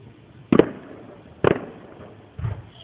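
Fireworks bursting at a Salem display, three sharp booming explosions spaced about a second apart, loud and fairly close with quiet gaps between.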